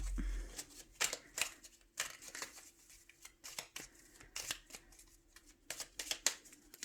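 A deck of tarot cards being shuffled and cut by hand, giving a run of quick crisp riffling flicks and soft slaps at close range, with no talking.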